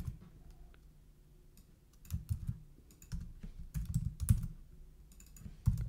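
Someone types code on a computer keyboard in quiet surroundings, with irregular bursts of close, crisp key clicks separated by short pauses.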